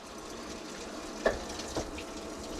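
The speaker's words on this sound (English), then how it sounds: "I hear the water." Water gushes quietly into a machine, a soft steady flow with a couple of brief knocks, fairly faint and without talking.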